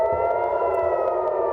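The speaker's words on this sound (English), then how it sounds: "rocket sirens rang out early this morning" A steady, wailing rocket warning siren in Tel Aviv sounds loud and continuous, holding a sustained tone with no voices over it.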